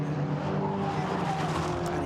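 Volkswagen Racing Cup cars roar past at Oulton Park, a loud, sustained engine drone with a faint tire squeal, steady and close with no voices.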